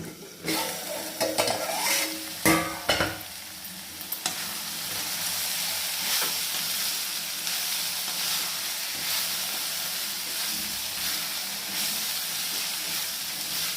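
Onions sauté in oil in a pan over medium heat while being stirred, with a few scraping clanks of the spoon early on, then a steady, loud sizzle and hiss that continues unbroken.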